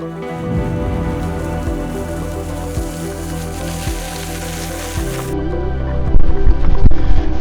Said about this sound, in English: that thunderstorm's getting pretty close